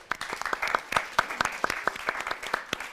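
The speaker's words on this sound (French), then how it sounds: "je propose qu'on les applaudisse tous et toutes" An audience at a French public debate event applauds the event staff. The clapping is moderately loud and sparse, with distinct individual claps in an irregular rhythm rather than a dense roar, heard on its own.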